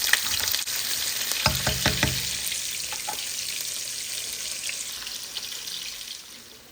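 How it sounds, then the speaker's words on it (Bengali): Onions hit hot oil with panch phoron and dried chillies. A sharp burst of sizzling and crackling about a second in settles into a steady, fading fry, with faint stirring in a quiet kitchen. "এখন আমি পরিমাণ মতো পেঁয়াজ দিয়ে দিচ্ছি।"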